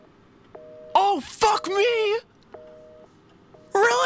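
An in-game telephone rings in Resident Evil 7, giving repeated short electronic tone bursts at a steady interval, with a man exclaiming loudly over it.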